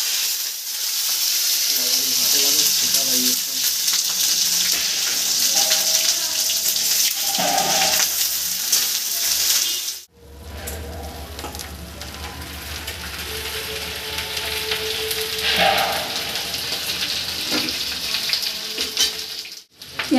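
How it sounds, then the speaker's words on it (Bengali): Onions and whole garam masala frying in hot oil for a kurkure chatu dish, a loud steady sizzle with stirring clatter, briefly cut off and then resuming with a low rumble beneath. "পেঁয়াজ একটু লাল লাল করে ভেজে"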